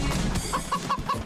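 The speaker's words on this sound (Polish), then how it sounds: "Oj, tam są kury." Chickens cluck in the video game Moving Out, a quick series of five short, evenly spaced clucks over dense game noise and a busy background.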